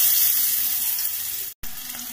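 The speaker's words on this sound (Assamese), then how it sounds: "এয়া পিঁয়াজখিনি ভাজি হৈ গৈছে" Onions fry in hot oil in a pan, in oil already used for frying fish and seasoned with five-spice seeds. A loud, close, steady hiss and crackle holds throughout, broken by a brief dropout near the end.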